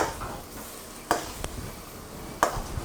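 Indo-Chinese street food is stir-fried in a wok, with a steady sizzle and scraping broken by two sharp metallic clanks as the pan is tossed.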